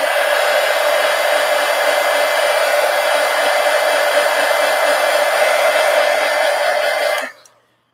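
A heat gun blows hot air to dry a watercolor pencil botanical painting, a loud steady close-up whoosh and whine holding constant for about seven seconds before switching off.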